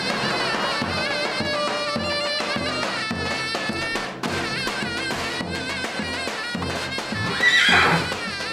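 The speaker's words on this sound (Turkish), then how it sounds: "Bu at gerçek mi?" A horse neighs in a drama scene. The whinny comes through loud and near, and it rises sharply near the end over a steady bed of dense music.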